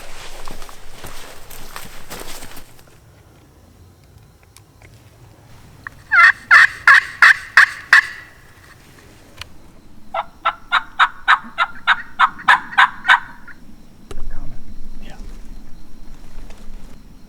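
Eastern wild turkeys gobbling in woods, two loud rattling gobbles in quick succession from distant birds, with rustling footsteps through leaves before and after.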